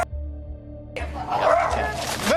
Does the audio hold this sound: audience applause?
no